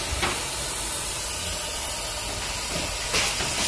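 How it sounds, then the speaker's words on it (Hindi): A gas cutter slicing through nuts and bolts during vehicle modification work: a loud, steady roaring hiss of the torch flame throughout, with brief sharper flares near the start and end. "इधर चल रही है भाई गैस कटर से कटाई नट वोट का भी।"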